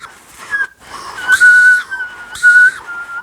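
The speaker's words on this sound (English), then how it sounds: "try and find a position where the whistle kind of works, and then just work on that" Palate whistle performed with a lip warble, a close, breathy whistle tone that wavers and rises in several warbling phrases with short pauses between them, heard alone with no talking.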